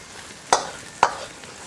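Water bamboo shoots tossed in a hot wok with preserved mustard greens and seasoning, giving a soft frying hiss with two sharp scraping stir strokes about half a second apart.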